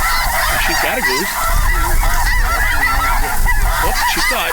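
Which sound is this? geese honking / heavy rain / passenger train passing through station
geese honking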